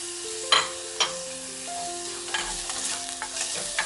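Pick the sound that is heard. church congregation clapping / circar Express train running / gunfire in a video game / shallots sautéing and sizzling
shallots sautéing and sizzling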